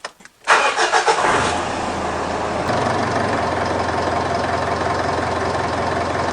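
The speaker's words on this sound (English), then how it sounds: "We'll just go next and we'll start the engine and see what that does." A Mitsubishi Triton with the 4D56 diesel engine cranks briefly in a few quick turns, then catches and settles into a loud, steady idle close by.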